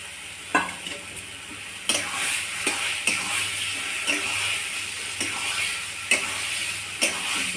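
Fried shrimp is stirred into a pointed gourd mash in a hot pan. A continuous sizzle and hiss carry regular sharp scrapes and knocks from the spatula, close up with no talk.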